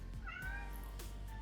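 A pet cat meows a few times close by in a quiet room, short rising cries spaced out over a steady low background hum.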